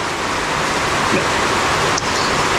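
Rain falling around a home, a dense, steady hiss that fills the whole stretch without a break, loud and close.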